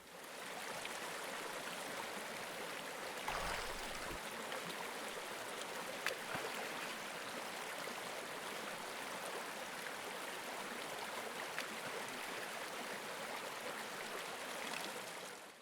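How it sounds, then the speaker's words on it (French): A river flowing into a bay near Haines in Canada, a faint, steady rushing stream sound with even gurgling water texture and a few small bumps, no voices. "Les rivières qui se jettent dans les baies apportent du poisson en abondance."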